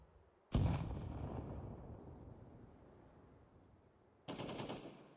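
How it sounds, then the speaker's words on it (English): Two grenade explosions in Counter-Strike 2. A sharp, booming blast rings out and slowly decays, then a second burst hits near the end. No voices. "Throwing a grenade."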